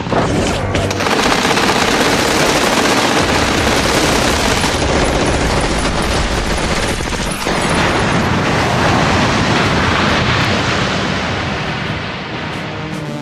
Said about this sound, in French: une rafale de mitrailleuse, des éclats d'obus, les bombes qui font exploser la terre